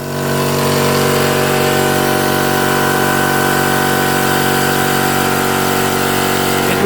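Parkside PKO 270 A4 air compressor starting and running, a loud, steady mechanical drone with a constant pumping hum that holds unchanged from start to finish.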